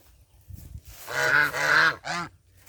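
Muscovy ducks give a few loud, close honking calls: soft scuffling, then two drawn-out hoarse honks and one short honk after a brief pause.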